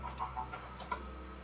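Chickens clucking in the game Minecraft, a few short faint clucks spread across a quiet moment with no talk.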